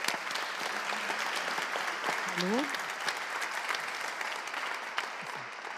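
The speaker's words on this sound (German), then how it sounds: "Applaus für den Hermann." At an award ceremony, a hall full of people keeps up a steady wash of applause, with scattered voices talking underneath.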